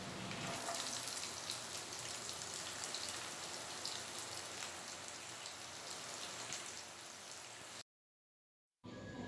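Chopped onions with ginger frying in a pan for papaya chicken, a steady, even sizzling hiss that runs throughout, broken once by a brief moment of silence near the end.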